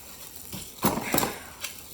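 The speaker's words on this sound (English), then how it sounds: "Forks and spoons." Metal forks and spoons clink and rattle as they are handled during unboxing, a few close, bright jangling bursts over quiet room tone.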